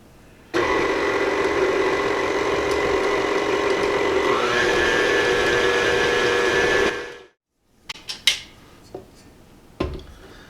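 An electric mixer beats cookie dough on low speed with a steady, loud motor whir and faint rattling for about seven seconds, then stops abruptly, followed by a few soft clinks of a bowl and utensils.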